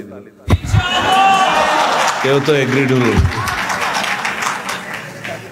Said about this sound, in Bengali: কেউ তো তালি দিল